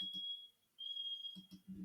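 A pet bird whistles a thin, steady alarm-like tone, sustained for a moment, then repeats it after a short pause between soft chirps.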